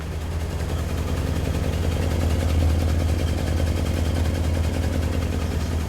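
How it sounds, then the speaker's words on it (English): A 1964 Lincoln Continental convertible's deep, rumbling exhaust note roars steadily at close range, a loud, continuous throaty drone with a rough pulsing texture and no voices. "I'm gonna get a little exhaust note"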